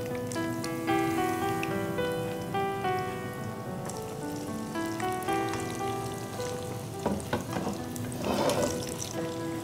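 Pieces of food frying in hot oil in a kadai, a steady close crackle and sizzle with faint spattering pops, under background music and no speech.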